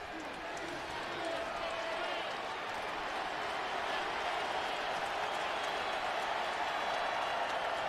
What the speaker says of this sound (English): Crowd beginning to get a little louder as Tennessee's on defense again.